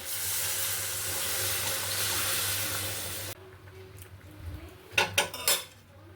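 Water is poured into a pot of banana flower curry (mochar dalna), a steady broadband rush that stops abruptly partway, followed by a few sharp clinks of a utensil against the pot.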